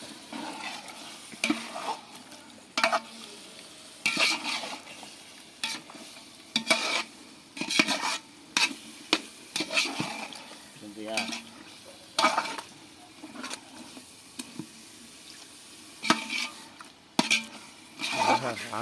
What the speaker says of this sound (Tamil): இப்போ எல்லாத்தையும் சேர்த்து நல்லா வதக்கிக்கலாம்.